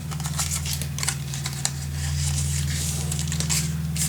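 Scissors snip through a paper envelope piece while a mini album is being crafted, giving a series of quick crisp cuts over a steady low hum.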